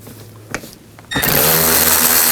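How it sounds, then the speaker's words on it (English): A power driver with a T20 socket backing screws out of a 2009-17 Chevy Traverse headlight assembly, a brief tap followed by a loud, close, steady whirring whine that runs to the end. "There's two screws right here. Take those out. Use a T20 socket."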